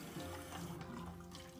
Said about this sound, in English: allowing that water just to run right over in the same direction of the hair